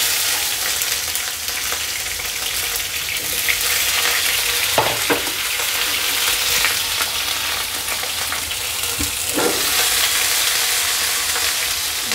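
Eggplant fries in a pan in a Bengali home kitchen, a constant loud sizzle with a few brief stirring scrapes and no talk.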